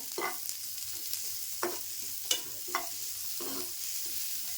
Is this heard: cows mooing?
no